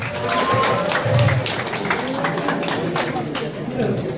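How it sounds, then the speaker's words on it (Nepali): An audience claps for a participant at a Jaycees week program hall, a continuous patter of many hands at moderate loudness, with voices speaking through the applause. "तपाईँ उठ्नुहोस् त, उहाँलाई जोड्दा ताली सबैले।"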